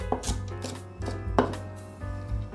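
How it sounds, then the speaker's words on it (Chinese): Fresh, crisp celery chopped with a knife on a cutting board, a few sharp, close chops in quick succession with short pauses, alone with no talk. "这次买的芹菜感觉很新鲜，切起来清脆的感觉"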